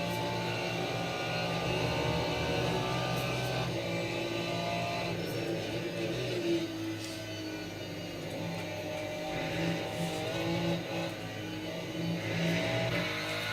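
BMW race car engine in a racing video game at the Spa circuit, heard on board as a steady, droning roar with shifting pitch as the car accelerates and lifts, no voices over it.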